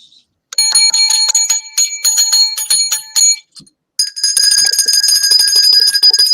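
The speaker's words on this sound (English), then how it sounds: "he's going to start us off with some loud bell action" A loud bicycle-style bell rings rapidly and repeatedly in bursts, with a brief pause before another long stretch of insistent ringing.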